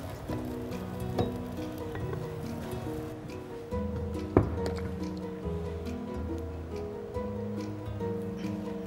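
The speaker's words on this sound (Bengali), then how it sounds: "একটু নেড়ে নিলাম, তেজপাতাটা ফেলে দিচ্ছি" Mutton rezala is stirred in a pot with a wooden or metal spoon, giving soft wet squelches and a gentle sizzle, with one sharp knock against the pot midway as a voice talks over it.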